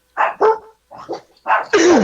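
Puppies give a quick run of yappy barks and yips, close by, with short gaps between them and a rising whiny bark at the end.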